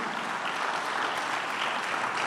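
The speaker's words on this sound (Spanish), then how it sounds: "Hay muchos aplausos hoy porque yo sé que no está fácil la cosa." A church congregation claps during a Spanish-language sermon, dense and steady applause that fills the room without a break, with no talk over it.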